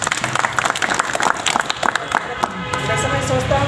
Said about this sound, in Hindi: इसके लिए तो ताली होना चाहिए।